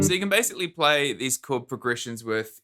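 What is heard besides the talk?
No everyday noises stand out.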